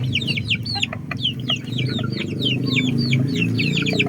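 Pet chickens cluck busily while being fed, with a steady run of close, high, chirpy calls over a low murmur of other birds.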